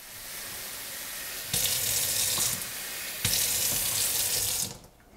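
Tap water runs steadily into a container being filled for a large ice block, a loud, close rushing stream that swells twice and then cuts off near the end.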